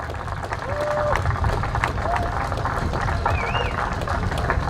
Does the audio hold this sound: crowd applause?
yes